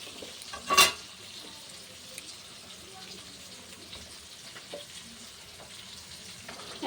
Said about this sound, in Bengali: এবার মাছগুলো দিয়ে দেবো একটা একটা করে।